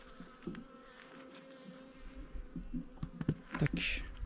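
Honeybees buzzing close by around a mini plus beehive: a soft, continuous drone broken by sharp knocks and clicks from handling the hive.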